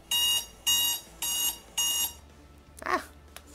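A sharp electronic alarm beeps four times in an even rhythm, loud and close, before falling quiet; a brief vocal sound follows in the quiet.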